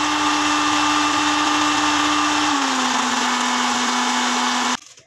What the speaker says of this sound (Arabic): هضربهم بقى في الخلاط ضربة بقى كويسة اوي لغاية ما لونه يبقى فاتح